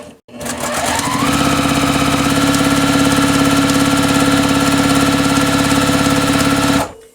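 A sewing machine stitches a quilt block for a Crown Star design, running steadily for about six seconds with a continuous mechanical hum and rapid needle rhythm after a brief start-up.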